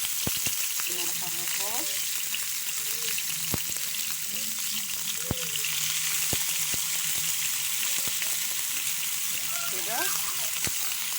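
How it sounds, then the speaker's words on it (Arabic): Steak pieces fry in hot oil with a steady bright sizzle and scattered crackles, while a person talks quietly over it. "وهنا بقى الزيت هو سخن بقى كده. بحط بقى قطع الستيك كده"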